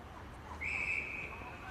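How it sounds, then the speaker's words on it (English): A referee's whistle at an under-16 women's Australian rules football match, a single sustained blast heard at a distance over a steady crowd and field background. "And again, the whistle."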